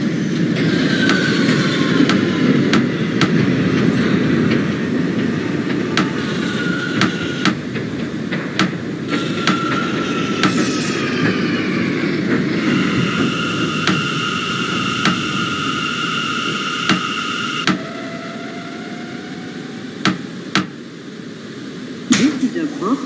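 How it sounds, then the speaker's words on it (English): An R179 subway train runs on a J Express line in the OpenBVE train simulator, with a steady loud rolling rumble, rising and falling motor whine, and sharp rhythmic clicks over rail joints. An automated announcement voice speaks during the run. "This is a Brooklyn-bound J Express train."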